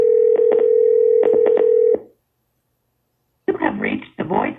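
An auto-dialer working through a loaded list of phone contacts taps out a rapid run of touch-tone dialing beeps over a steady tone, then goes silent before a short burst of a voice on the line.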